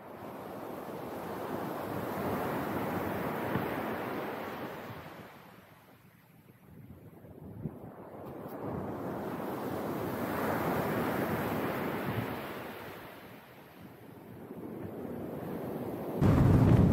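Ocean waves surge and recede in slow, broad swells, loud and close, with wind rushing over the microphone throughout, on the coast of Ilocos Norte, Philippines.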